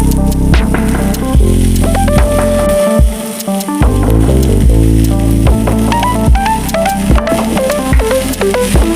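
Loud, steady sizzling of coriander leaves frying in a hot pan, with stirring and occasional scraping, close up and continuous, no talking.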